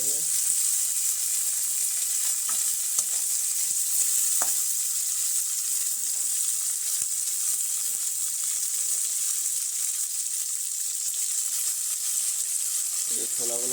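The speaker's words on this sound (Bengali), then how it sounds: "ভাজা হচ্ছে" Steady loud sizzling of spiced chickpeas frying in a pan, a continuous bright hiss with occasional faint scrapes, no talking.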